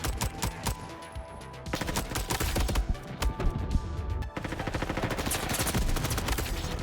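Rapid gunfire in a Roblox Call of Duty-style shooter game, with dense bursts of sharp shots coming in quick succession. The shooting is loud and continuous, with one brief gap in the middle.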